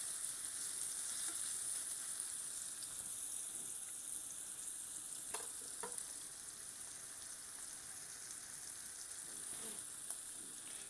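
Steak browning in a frying pan for Steak Diane, a steady close sizzle and crackle throughout with a few brief pops, no voices.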